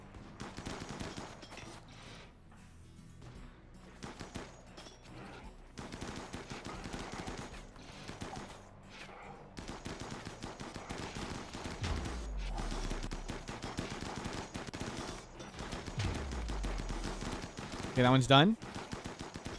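Rapid automatic gunfire and shots from a RimWorld colony battle against centipede mechs, dense bursts running throughout under voice chat, with a louder bright burst near the end.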